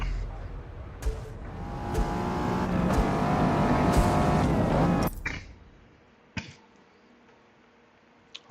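A car in the Forza Motorsport racing game revs up with a rising, sustained engine roar that cuts off abruptly, followed by a few sharp clicks and thumps in near quiet.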